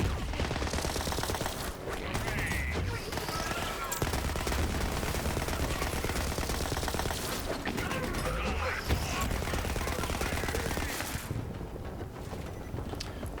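Turret gunfire in a Borderlands video game, heard as sustained rapid bursts of automatic shots layered with mechanical clatter and dense game noise, with a few brief gaps.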